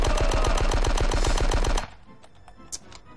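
Rapid automatic gunfire from the Die Hard Nakatomi Plaza video game, a loud even burst of about 20 shots that cuts off after nearly two seconds, followed by faint scattered game sounds.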